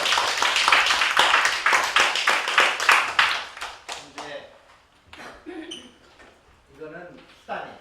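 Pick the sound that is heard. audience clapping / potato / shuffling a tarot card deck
audience clapping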